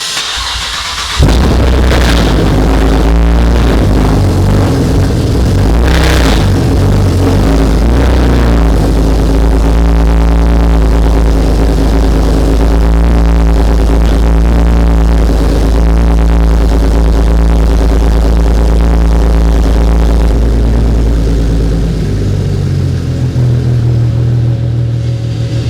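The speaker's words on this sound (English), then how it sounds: "I'm gonna go ahead, start it up, see if there's any weird idle, see if there's any air leaks from the front" A Camaro with an LLT V6 engine, fitted with a ported LFX intake manifold and an extendolator, cranks and fires up, then settles into a loud, steady, close idle that drops slightly near the end.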